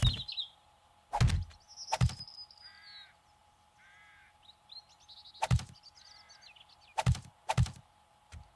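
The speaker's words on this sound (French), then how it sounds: "on entend les petits oiseaux" Small birds chirping in the open-world survival game 7 Days to Die, high twittering calls in short bursts under sharp, loud thumps from building, with faint harmonic tones in the background.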